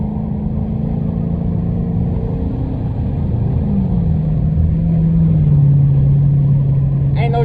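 A car engine hums and climbs in pitch while driving, a steady close rumble that rises as it revs under a man's chatter inside the car.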